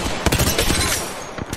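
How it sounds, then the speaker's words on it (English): Rapid burst of grenade-launcher fire from the Knuckle Cluster in Apex Legends, with several close, punchy pops in quick succession lasting about a second and a half. "Knuckle cluster's firing"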